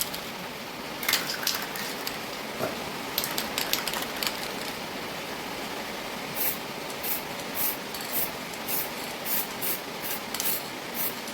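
Indoor spraying of glossy lacquer paint onto a body panel while heavy rain falls outside, short bursts of fine airy spray hiss repeating in quick pulses over a steady background wash.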